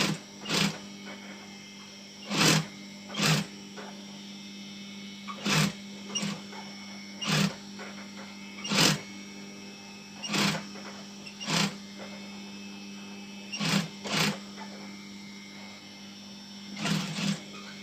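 A sewing machine stitches a heart-shaped fabric decoration in short, repeated bursts of rapid clattering, each a second or less, separated by pauses over a quiet steady hum, fairly near.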